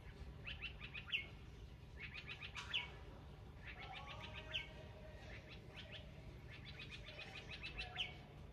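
Small birds perched in an avocado tree in Alanya, Turkey, chirp in repeated quick trilling bursts every second or two, fairly faint against a steady outdoor background hum.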